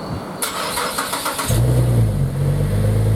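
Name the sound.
car engine running after a service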